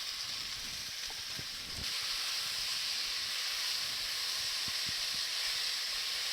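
Onion, celery and carrots sauté in a Dutch oven, giving a steady, close hiss of sizzling that runs unbroken throughout, with a few faint clicks and no talking.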